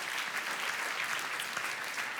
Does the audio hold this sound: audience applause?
yes